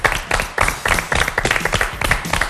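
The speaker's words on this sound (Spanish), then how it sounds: "Dale, un aplauso" A studio audience on a television talk show claps, a dense burst of rhythmic hand claps that stays close and fairly loud for a couple of seconds without fading.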